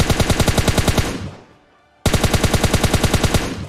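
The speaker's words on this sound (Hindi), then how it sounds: "ये गन शॉट के आवाज से मेरे को लग रहा है कि ये बॉट फायर दे रहा है।" Automatic gunfire in PUBG Mobile Lite rattles in loud rapid bursts, trails off into a short quiet gap, then abruptly resumes at the same fast, even rate.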